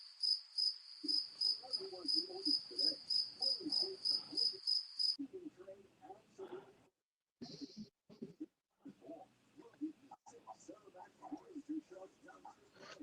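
Recorded crickets chirp in fast regular pulses for about five seconds, replayed on a big screen at a late-night online hangout, followed by people talking over quieter background sounds.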